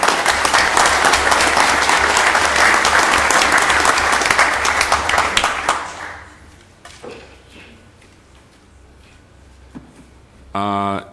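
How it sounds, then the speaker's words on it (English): Audience at a county Board of Supervisors meeting applauding employees honored for years of service, a loud sustained round of clapping that fades out after about six seconds, followed by quiet room noise and a brief clunk. "Round of applause for those folks."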